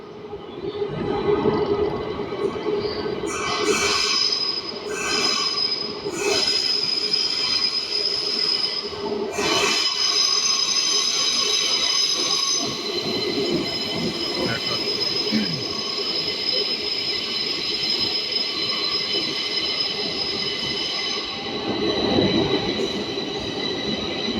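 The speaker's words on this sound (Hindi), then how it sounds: "ये आ गई मेट्रो।" Bucharest metro train pulling into a station, a sustained loud rumble with long, high wheel squeals and some clacking over about twenty-four seconds, close and dominant throughout.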